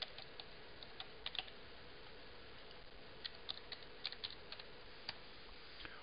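Keys tap out a password on a computer keyboard in quick, faint clicks, with scattered bursts and short pauses, heard close and alone.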